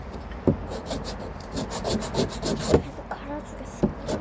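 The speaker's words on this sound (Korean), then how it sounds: "여기 사포에다가 이렇게 긁어주는데" Coarse sandpaper rasps back and forth over wood during hand sanding in a woodworking shop, irregular close scraping strokes with a few sharper scuffs, heard on their own without talk.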